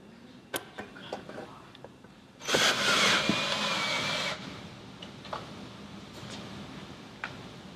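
Drill driving a self-tapping screw into a metal bracket during a window shade pocket installation, one loud continuous whir lasting about two seconds, close by, set between quieter handling clicks.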